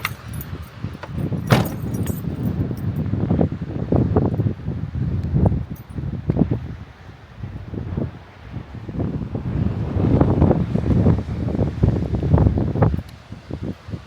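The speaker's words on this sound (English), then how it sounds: "it's going to be windy, I think, based on the sound" Gusty wind buffets the microphone in rough, rising and falling surges, with rustling and faint clinking mixed in, outdoors at a campsite in North Wales.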